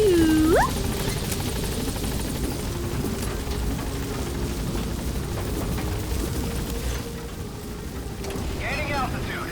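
A helicopter in Metal Gear Solid V climbs with a steady, loud rotor drone and broad rushing noise, while a voice briefly talks over it and a rising electronic tone sounds at the very start.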